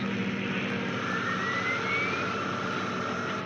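Aircraft engines failing in a war radio drama: a loud, continuous droning roar with a faint rising whine, steady and close throughout with no talk over it.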